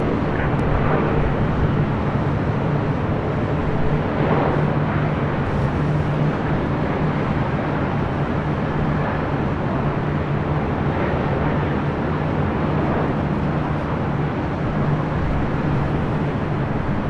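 A 27-year-old Delta Boeing 757-200 bound for Minneapolis takes off from runway 24 left at LAX, producing a steady, broad jet roar with a low rumble that holds evenly at moderate distance.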